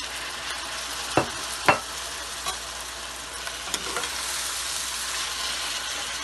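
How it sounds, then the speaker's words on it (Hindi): Tomatoes going into a pan of frying kalonji chicken masala, with two sharp splashy bursts early on that settle into a steady, hissing sizzle with occasional soft stirring clicks, close and alone. "अब हम टमाटर डालेंगे।"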